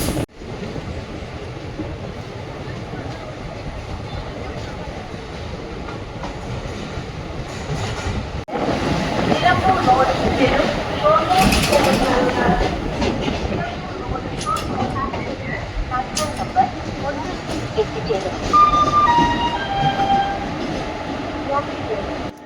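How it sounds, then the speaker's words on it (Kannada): A train runs on the Shoranur–Nilambur line in Kerala: a steady rumble and rattle of carriages that grows louder midway, with clattering wheel beats and brief high tonal notes near the end. "ನಮ್ಮ ಟ್ರೈನ್ ಬಂದೈತ್ರಿ ಈಗ ಅಂಗಾದಿಪುರಂಗೆ."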